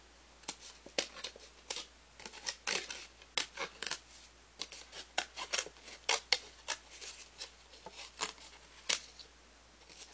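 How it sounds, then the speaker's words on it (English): Scissors cut out a circle for a homemade camera photo holder, giving a series of close, crisp snips in irregular short bursts with brief pauses between cuts. "Now that it's through, I'm going to cut out the circle."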